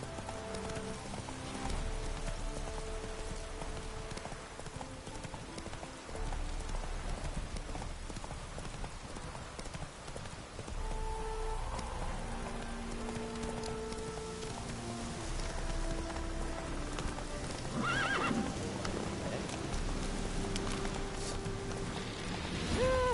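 Roach the horse gallops in The Witcher 3, with a close, rapid, even clip-clop of hooves running throughout over a soft rain-like patter. No neigh stands out.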